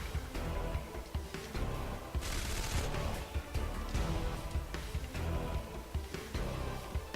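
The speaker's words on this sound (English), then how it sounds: "Do like the submachine gun" Submachine gun fire in the video game Red Faction Guerrilla, set in the Badlands: repeated short bursts of shots and crashing impacts, loud and close, with a bright blast near the middle and no talking.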